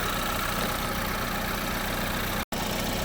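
Car engine, recently repaired after chain tensioner trouble, idling quietly with an even, continuous mechanical hum and a momentary dropout near the end.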